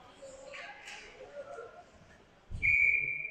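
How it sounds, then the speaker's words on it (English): A referee's whistle in an ice hockey game, a shrill sustained blast arriving late and loud over crowd murmur and faint rink noise. "Now blocked, and we get a whistle."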